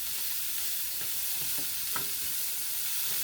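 Broccoli and steak frying in a pan give a continuous bright sizzle, broken by a few gentle stirring scrapes, close and steady with no talking.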